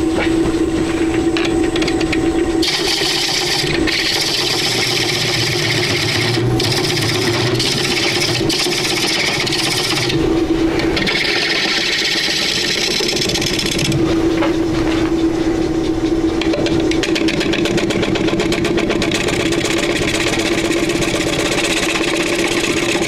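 A gouge cuts a wood log into a bowl on a lathe, a steady motor hum with a continuous scraping hiss that swells and eases in bursts as the tool bites, loud and close throughout.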